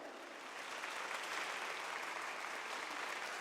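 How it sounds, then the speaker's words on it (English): A school annual day audience breaks into sustained applause for award winners, steady dense clapping from a large crowd filling the hall with no talk over it. "Let's show our appreciation for the winners with a huge round of applause."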